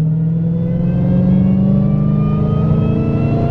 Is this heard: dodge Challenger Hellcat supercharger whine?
yes